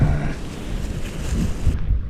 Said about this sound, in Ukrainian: Вітер просто скажений